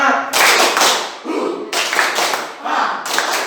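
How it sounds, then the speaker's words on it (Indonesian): Students in a physical education class perform a rhythmic clapping cheer, loud close claps in patterned bursts with brief pauses, mixed with group shouting in time with the claps. "Oke, ulangi. Tepuk semangat."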